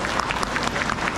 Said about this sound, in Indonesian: tepuk tangannya yang meriah.